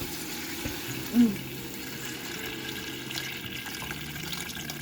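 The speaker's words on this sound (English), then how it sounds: "Now we're going to add some water, but be very, very careful, it's boiling." Boiling water pours steadily into a pot with a soft, continuous splashing hiss, a brief clunk early on, and no talking.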